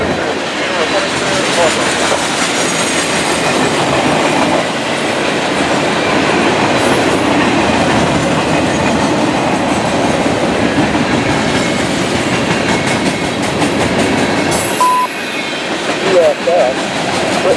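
Amtrak passenger train P079-26 rolls past on a CSX line, a loud, steady rumble of wheels with rhythmic clickety-clack and occasional faint squeals, sustained and close for the whole stretch.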